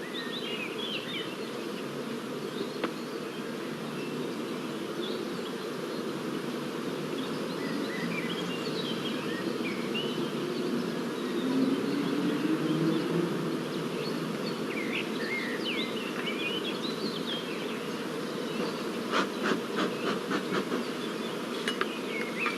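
Honey bees buzz around an open beehive as combs are handled, a dense continuous hum with individual bees droning past, occasional faint clinks and bird chirps in the background, no talk.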